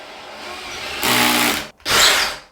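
A power drill driving screws into drywall anchors whirs loudly in two bursts, revving up, pausing briefly, then driving again with a high, strained whine.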